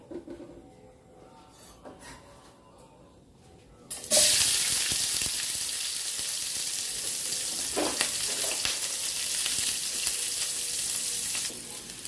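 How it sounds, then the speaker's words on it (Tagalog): Onion and garlic hit hot oil in a pan for Filipino ginataang monggo, bursting into a loud, steady sizzle that continues without pause after a quieter start with faint clatter. "Oil. Igisa natin ang onion at garlic."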